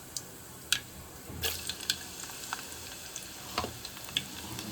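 Garlic hits hot oil already holding mustard seeds and cumin, giving a soft sizzle with scattered crackles and pops. Nobody speaks over it.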